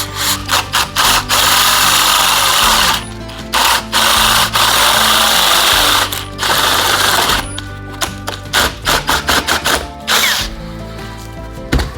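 A power drill fitted with a 1.5 inch Freud bit bores into a wooden block against a trailer wall, loud and close, in stop-start bursts of whirring with short pauses between runs.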